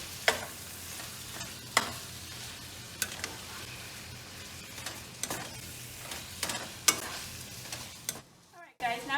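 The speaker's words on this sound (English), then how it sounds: "we want to flip the meat a few times" Ground beef sizzles and fries in a pan, with sharp scraping clicks as the meat is stirred and flipped several times, close and moderately loud with no voices.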